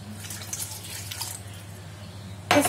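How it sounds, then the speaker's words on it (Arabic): Water pours into a glass in a quiet kitchen as a soft, steady trickle, followed by a brief, sharper splash at the end. "كاس ديال الماء."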